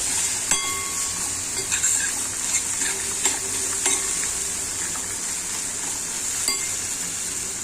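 Chili powder, Malvani masala, cumin, coriander and turmeric sautéed in oil over low heat, a steady close sizzle with scattered clinks and scrapes of a spoon stirring in the pan.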